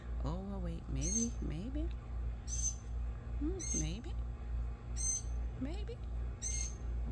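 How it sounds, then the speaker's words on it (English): Small birds chirp and squawk near a trapped bird in a short series of bright, quick calls spread across the stretch, under a steady low hum, while a person speaks quietly in between. "And she is chirping down."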